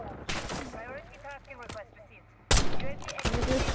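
Video game gunfire bursts out sharply near the start, and a louder, sustained volley follows after a pause, with voices talking in between.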